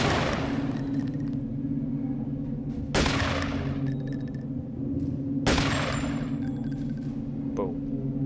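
Gunfire in the game Deus Ex: two sharp, loud shots a few seconds apart ring out over a low, steady ambient hum, each one trailing a brief metallic tail.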